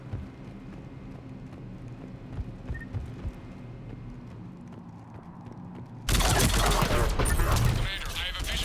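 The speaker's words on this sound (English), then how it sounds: "The cannon fire is clearing the way." Cannon fire and gunfire in a battle in the video game Mass Effect 3 erupt into a loud, dense burst of blasts after a stretch of quieter rumbling background, carrying on to the end.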